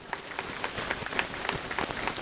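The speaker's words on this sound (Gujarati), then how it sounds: "તાળીઓના ગડગડાટ" An audience claps at a community festival celebration after a student's exam result is announced, a moderate, fairly distant patter of many hands lasting throughout without a clear break.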